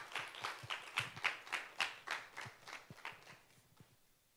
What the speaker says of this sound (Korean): 귀한 사역해 주신 자매님께 다시 한번 박수합시다